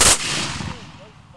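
Musket volley from a line of War of 1812 reenactors firing on command during drill, a single sharp loud blast that decays into a rolling echo over about a second.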